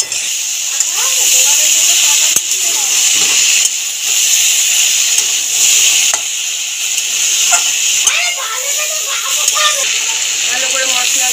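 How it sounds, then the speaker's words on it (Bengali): Ridge gourd and potato pieces sautéing with turmeric and spices in a pan, a loud continuous hiss with scattered scrapes and stirring knocks, and a voice talking faintly in the background now and then. "ভালো করে মশলা দিয়ে কষিয়ে নিয়েছি ঝিঙে আলুটাকে"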